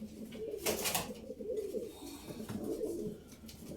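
Young purebred pigeon chick giving soft, repeated cooing chirps close by, with handling noise and a steady low background murmur.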